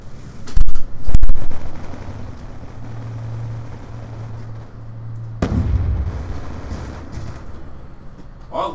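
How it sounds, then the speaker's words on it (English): Burst-fire gunshots in Call of Duty Black Ops 2 multiplayer on PC: two loud, sharp clusters of shots near the start, followed by a steady hum of game noise and a heavier boom partway through, with no talking. "I like that burst fire"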